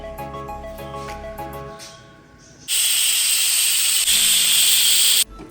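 A pressure cooker on a gas stove cooking an ash gourd curry in coconut milk lets out a loud, sustained steam whistle that cuts in abruptly after a quieter stretch and holds steady for several seconds before stopping sharply.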